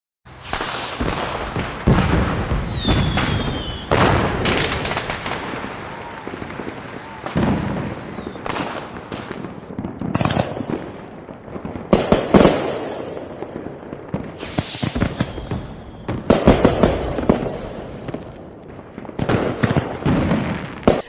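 Repeated fireworks bang and crackle across a Chinese city sky on New Year's Eve, bursts coming in irregular clusters with echoing booms, a few distant voices in the background.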